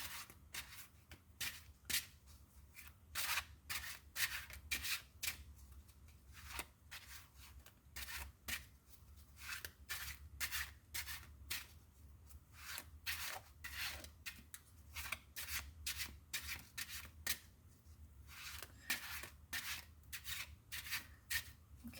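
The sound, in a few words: shuffling a deck of tarot cards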